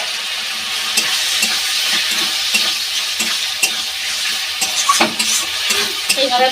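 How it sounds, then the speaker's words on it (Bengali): Egg and chicken filling for rolls being stir-fried dry in a pan, a steady loud sizzle with spatula scrapes and clicks against the metal throughout, with no talking. "এই যে আমি শুকনো শুকনো করে ভেজে নিচ্ছি রোলের জন্য"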